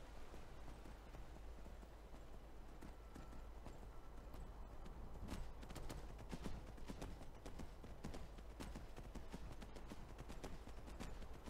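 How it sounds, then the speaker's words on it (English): Mechanical dwarven robot horse from Skyrim clip-clopping steadily, its hooves striking in a continuous, quick rhythm, close and alone at a low level throughout. "I got a horse like no one's ever seen. It's a robot horse."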